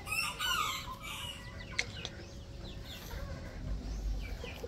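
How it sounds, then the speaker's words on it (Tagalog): Rhode Island chickens cluck and crow close by in a Laguna poultry yard, with a brief sharp crow and scattered clucks over faint background noise. "Ganda talaga panoorin ng Rhode Island."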